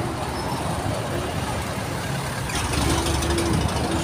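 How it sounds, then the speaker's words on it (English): A bus passes on a busy city road in Bacolod City, a loud rumbling engine close by that swells slightly as it goes, mixed with general traffic noise. "we'll let this bus get past."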